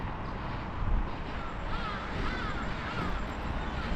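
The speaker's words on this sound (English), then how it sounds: "Those birds are called hadidas." Hadeda ibises call in a Johannesburg suburb, giving harsh, crow-like cawing cries at moderate distance over a broad outdoor background.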